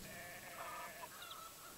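A goat in the farming video game Garden Paws bleats in a short, wavering cry, fairly faint over a steady background of game ambience.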